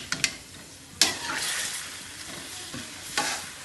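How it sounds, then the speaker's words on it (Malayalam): Beef pickle is stirred in a pan, with a few sharp scraping clinks of the spoon over a soft, continuous sizzle, close and alone with no talking. "നന്നായി ഇതൊന്ന് ഇളക്കാം."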